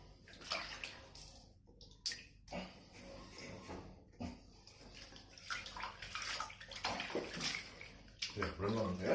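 A kitten being bathed in warm water, with irregular close sloshing and splashing, dripping and gurgles, and a faint voice now and then.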